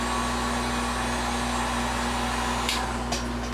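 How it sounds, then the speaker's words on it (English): A hair dryer blows steadily to force-dry fresh paint on a model starship hull, a constant close whirring hum with a few faint clicks near the end. "And give this a little bit of a force dry real quick."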